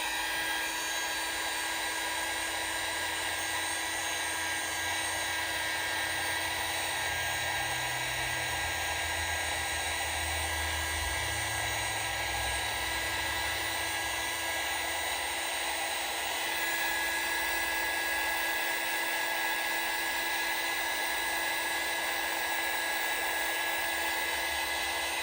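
A handheld heat tool or dryer blowing steadily to dry fabric tags for a craft project, a constant close whine and rush of air that runs unbroken for the whole stretch.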